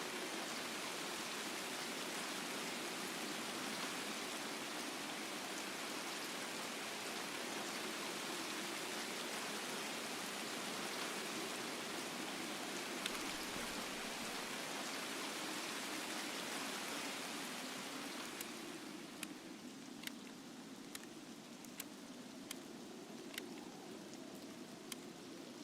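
Heavy rain in the video game Escape From Tarkov, a constant loud hiss of downpour that later thins to a lighter patter with scattered sharp drips and clicks, no voices.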